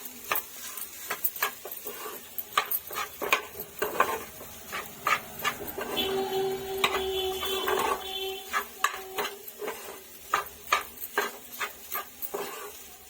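Egg bhurji being stirred in a pan as it cooks, a steady run of soft scraping strokes over a faint sizzle. A brief sustained tone rises partway through. Nobody speaks.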